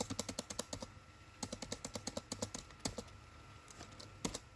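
Fast, light clicking of keys on a computer keyboard while entering an SQL query, irregular bursts of close keystrokes with a few short pauses and no talking.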